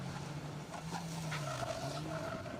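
Distant Mini rally car on a tarmac stage at a circuit rally, with faint tire squeal and a wavering engine note as it works through corners, quiet against the open-air background.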